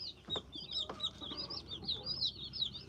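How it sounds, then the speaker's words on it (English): Several Chinese chickens with white feathers cluck and chatter continuously, a busy overlapping flock sound at moderate volume. "Or they just call them Chinese chickens?"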